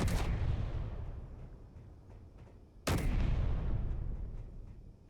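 Two heavy, booming shots ring out in a spaceship video game, one at the start and another about three seconds later. Each is loud and close, with a sharp crack that fades into a long rumbling tail, and no voices are present.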